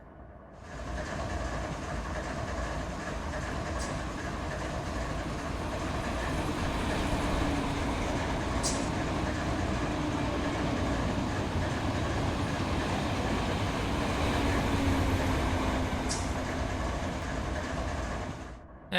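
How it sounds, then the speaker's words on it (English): A Metrolink commuter train rolls past in a train-simulator game, a steady loud rail roar with rumbling wheels and faint clickety-clack lasting throughout, with no talk over it. "here comes another Metrolink that's gonna go by us"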